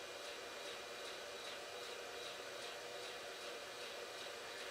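Small motor driving a shop-built welding rotary table through a 100-to-1 worm drive with 1-inch to 2.5-inch pulley underdrive, a faint steady whirring hum with no voices.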